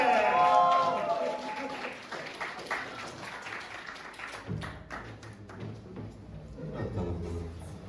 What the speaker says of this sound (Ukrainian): Микита Кант е, під ваші оплески!